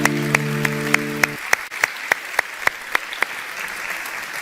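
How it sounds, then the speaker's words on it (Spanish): An audience applauds the kids: a steady wash of clapping with sharp, evenly spaced claps beating in rhythm, and a sustained tone fading out in the first second. "Damos un aplauso a los chicos."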